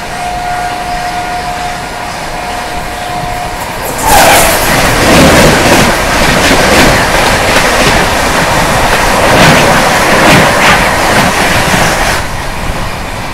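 The Goa Sampark Kranti Express passes close at speed, arriving with a sudden loud rush after a distant horn tone and sustaining a roaring rumble with rhythmic clickety-clack of wheels before easing off.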